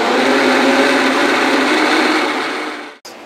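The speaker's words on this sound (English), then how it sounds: "And we go ahead and blend that up." Kitchen blender whirring loudly and steadily as it purees bananas into a smoothie, then cutting off abruptly near the end.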